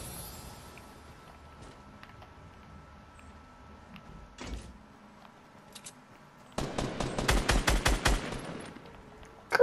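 Gunfire from the video game Fortnite: a few scattered single shots, then a rapid sustained burst of automatic fire, with a final shot at the very end.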